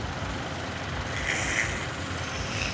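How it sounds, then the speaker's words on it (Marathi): Heavy traffic jammed near the foot of the Ekvira temple hill, with trucks and buses idling in a dense, continuous low rumble and faint engine whine at moderate distance. "आता ट्रॅफिक मध्ये अटकलेलो आहे पायथ्याजवळ"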